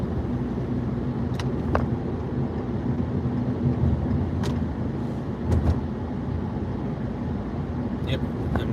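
Steady low road rumble from inside a moving car on the way to work, a constant engine and tyre drone with a few faint clicks and rattles, unbroken throughout.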